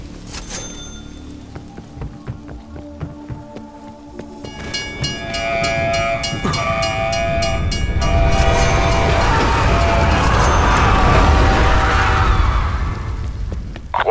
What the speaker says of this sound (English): After surviving so much, getting hit by a train would be a pity.